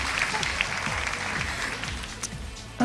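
An audience at a televised gala applauds after a song with a continuous wash of clapping, fairly close and even, with a faint voice beneath it.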